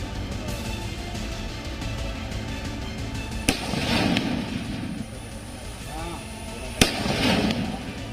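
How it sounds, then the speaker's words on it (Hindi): Firecrackers set off at night in villages near Bahraich to scare away wolves give two sharp bangs a few seconds apart, each followed by a crackling burst, under ongoing background noise and talk. "दिवाली या किसी जश्न में फोड़े जाने वाले पटाखे अब दहशत दूर करने में काम आ रहे हैं"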